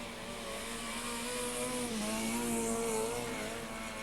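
A rally car drifts through the corners of a short circuit rally cross course at Brentwood Centre, its engine note holding a steady tone, dipping, then climbing again as it powers round, loud and continuous.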